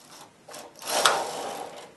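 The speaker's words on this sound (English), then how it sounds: "Now I'm going to approach the needle slowly and knit across." A knitting machine carriage slides across a row of needles, a soft scraping, clicking swish that swells in the middle and then tapers off, fairly quiet and close.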